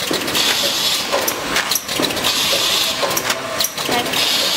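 A ziplock doypack pouch packaging machine runs with a steady mechanical whir, broken by regular periodic clunks and hissing cycles about once a second.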